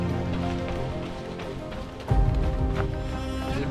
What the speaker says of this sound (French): Et bien sûr, on retrouve la pluie pour terminer.